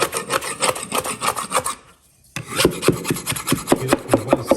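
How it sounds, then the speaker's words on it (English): A scraper rasps across a big glob of joint compound on a cracked drywall corner. Loud, rough, rhythmic strokes run for about two seconds, stop in a short silence, then start again in quicker, punchier strokes. "it's a big glob, but I'm scraping it off."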